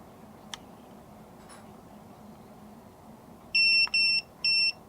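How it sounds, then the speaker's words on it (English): Electronic beeps from a Guta RV tire pressure monitor alarm, going off because its sensors are not attached to the tires: a few faint ticks, then three loud, evenly spaced bursts of rapid high beeping near the end. "it's going off on an alarm because I don't have them attached to the tire"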